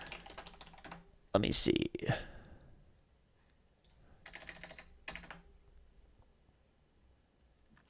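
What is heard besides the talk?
typing on a computer keyboard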